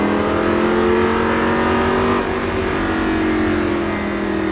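A Lamborghini Gallardo engine revs hard and climbs steadily under sustained acceleration at near full throttle on a track, loud and close, with a continuous rising drone throughout.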